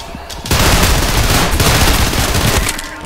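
Loud, close gunfire from Trepang2 erupts after a short pause and keeps hammering as a dense, continuous volley for several seconds before easing slightly at the end.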